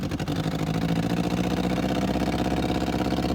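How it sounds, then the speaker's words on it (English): An abandoned dune buggy's four-cylinder engine idles roughly and misfires, running on only about three cylinders with a lumpy, galloping beat. It sounds close and steady throughout. "That doesn't even sound like all 4 cylinders."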